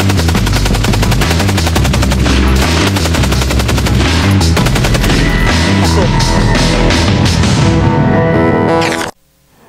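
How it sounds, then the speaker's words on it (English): A Maxim machine gun fires one long, loud, unbroken burst of rapid shots for about nine seconds, then stops abruptly. "now I'm going to fire the Maxim."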